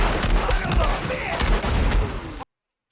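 A dense, chaotic burst of rapid gunfire from a shootout scene in the film Django Unchained, loud and continuous for over two seconds with overlapping shots and impacts, then cutting off abruptly to silence.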